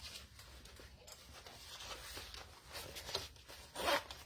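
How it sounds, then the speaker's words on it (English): Zippers on a sewn Zip N Go bag are pulled open, giving close raspy zipping strokes over faint rustling, with a louder, quicker pull near the end. "Open both your zippers to make the last top stitching possible."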